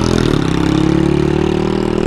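A tuned Honda car exhaust with an O2 sensor delete drones loudly and steadily at high revs, with a deep raspy tone, recorded close up.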